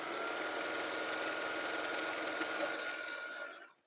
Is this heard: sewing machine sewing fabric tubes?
yes